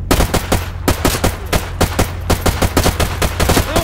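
Rapid, loud bursts of automatic gunfire from the shooter game Stalker GAMMA, dozens of sharp shots in quick irregular rhythm over a steady low hum, with no talking.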